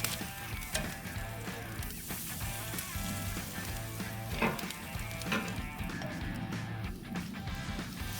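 Garlic sizzling steadily in melted butter, a continuous soft frying hiss with faint stirring, steady and moderately quiet throughout.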